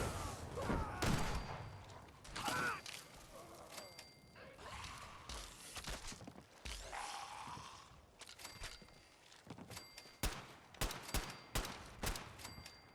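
Gunfire from the Fallout 4 video game in a sandbox mod: irregular bursts and single shots of varying loudness, with a dense rapid volley near the end and mechanical clicks between the shots.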